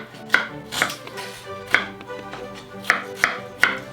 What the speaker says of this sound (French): Gingembre, on va le couper en petits morceaux pour donner une chance à la machine.